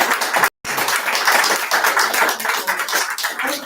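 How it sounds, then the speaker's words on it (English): An audience at a fundraising harp concert applauds harpist Christian with dense, steady clapping, loud and close, broken by one brief dropout near the start. "How about another round of applause for Christian?"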